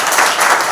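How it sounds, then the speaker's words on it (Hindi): A brief burst of loud, close applause from a congregation at a Sunday church service, dense clapping with no pauses across the short moment. "जोरदार एक ताली बजाइए।"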